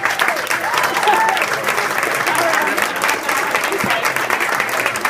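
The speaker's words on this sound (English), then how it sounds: "let's give Steve a nice round of applause" Wedding guests give a best man's speech a warm round of applause: dense, steady clapping from a crowd that fills the whole stretch, with a few voices mixed in.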